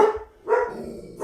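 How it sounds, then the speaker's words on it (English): Dogs bark twice indoors, two short, loud, close barks separated by a brief pause, with no speech. "Sorry about the dogs."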